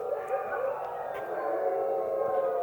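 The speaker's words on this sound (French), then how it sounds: "Ce que vous entendez, c'est des chiens de traîneau, un attelage. C'est 25 chiens." A team of 25 sled dogs howls together at mealtime, a steady, layered chorus of sustained wavering howls heard at some distance outdoors with no break.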